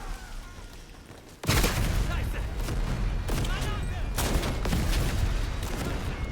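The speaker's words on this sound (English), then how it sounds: "Got a quick little shootout here." A WWI trench shootout in Over The Top, with a sudden loud burst of gunfire and blasts erupting after a quieter stretch, then sustained, dense rifle and machine-gun fire with a voice speaking over it.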